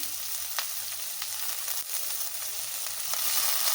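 Carrots, beans, capsicum and peas for veg fried rice fry in a pan with a steady, close, loud sizzle, dotted with faint stirring clicks.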